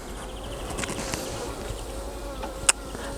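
Honeybees drone steadily around an open hive of ten frames during an inspection, a continuous close buzz with a single sharp click near the end and no talk.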